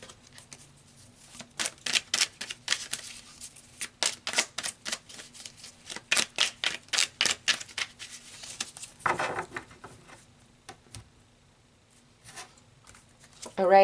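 Tarot cards are shuffled and pulled from a deck, a long run of crisp rhythmic riffling flicks close by, slowing and then stopping, with a few quieter card snaps afterward.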